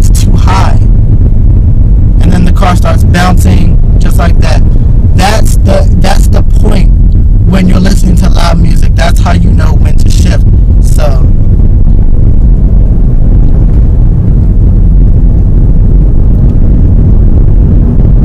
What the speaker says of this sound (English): when my engine starts doing that little loud sound